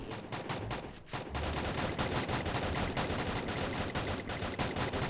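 Rapid automatic fire from an AN94 rifle in the Free Fire game, sustained bursts of loud gunshots running almost continuously after a brief gap near the start, with no talk.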